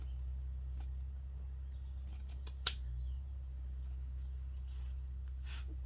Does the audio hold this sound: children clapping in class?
no